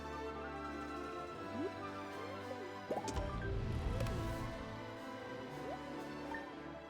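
Crops being watered in a farming video game, heard as soft drips and gurgling liquid splashes, a few brief droplet sounds over a steady backdrop, with a denser wet burst midway.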